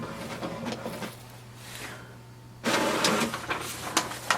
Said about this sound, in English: this command has gone and printer has started to print